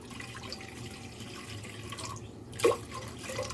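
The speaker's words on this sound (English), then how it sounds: "So I'm going to add some fresh water to my pot." Fresh water pours into a cooking pot on a stovetop for steaming vegetables, a steady low splashing that runs alone, with a brief louder splash near the end.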